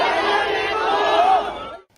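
A large protest crowd in China fills intersections blocked by police, chanting together in a loud, sustained roar of massed voices that fades out at the end.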